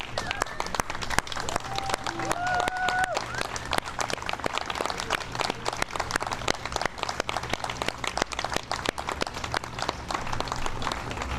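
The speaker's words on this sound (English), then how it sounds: "let's give them all a group round of applause." Awardees of a city neighborhood opportunity fund grant stand while the gathered audience gives them a sustained round of applause, dense clapping running throughout, with a brief voice heard near the start.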